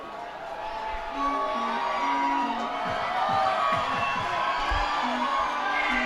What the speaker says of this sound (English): They are pretty loud, rooting for their hometown team